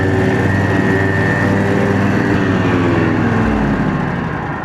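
A lawn mower engine runs loud and close on a country property as a steady, continuous drone. Near the end the pitch shifts lower, as if the load changes. No voices are heard.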